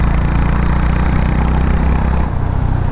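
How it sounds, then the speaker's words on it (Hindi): A Honda Highness CB350 motorcycle exhaust thrums with a steady, loud low-pitched rumble, heard close and continuous without speech while riding on hilly terrain. "that exhaust sound"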